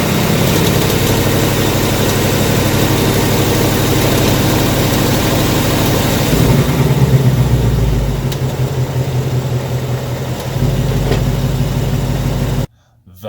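A 2018 Ford Mustang GT sits idling close to the microphone, its steady low engine rumble carrying a faint mechanical tick, the pitch shifting slightly midway before cutting off abruptly at the end.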